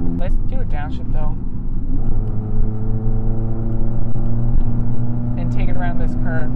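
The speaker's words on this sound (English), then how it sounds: "Let's do a downshift though." A 5-speed manual Fiat 500 engine drones steadily from inside the cabin during a downshift, its pitch rising as revs climb, with someone talking over it at the start and end.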